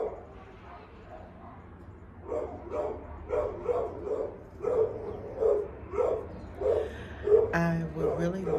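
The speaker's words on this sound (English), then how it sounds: "Sorry about the dog." A dog barks repeatedly in a steady series of sharp yaps, fairly close, with a brief whimpering whine near the end.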